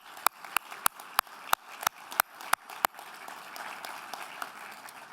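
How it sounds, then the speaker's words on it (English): Audience applause for nominees at the Canadian Tourism Awards 2022: about nine loud, sharp, evenly spaced claps open the clip, then spread into a softer, steady wash of many hands clapping. "I think they deserve one more round of applause for the nominees tonight."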